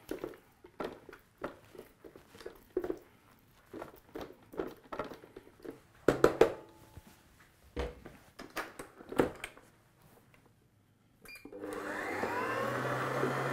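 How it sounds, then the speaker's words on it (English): A 1500-watt stand mixer motor kneads enriched doughnut dough for custard doughnuts, starting near the end as a loud, steady whirring drone after a stretch of scattered soft knocks and handling thumps. "this has a 1500 watt motor so that is seriously powerful"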